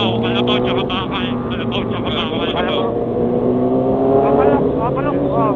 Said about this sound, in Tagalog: Oh, may Ford Ranger ah.